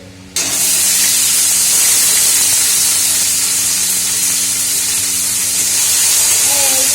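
Onion and pointed gourd frying in a pan, starting abruptly with a loud, steady sizzle and hiss that continues unbroken, close by and with no speech.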